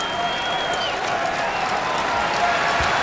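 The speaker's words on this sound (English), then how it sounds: "the arena is getting ready to have a big round of applause on this next dead ball" Arena crowd at a Kentucky Wildcats college basketball game against USD, a steady dense roar of voices and scattered clapping holding evenly throughout as fans stand waiting for a player to check in.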